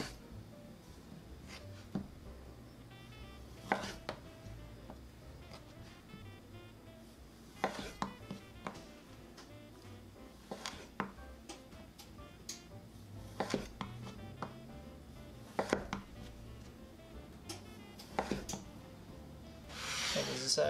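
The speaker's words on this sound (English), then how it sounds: "Then we're gonna cut about a quarter inch thick cookies." A sharp knife slices through rolled pinwheel cookie dough into quarter-inch rounds, each cut landing as a crisp tap on the board at irregular intervals under low room noise.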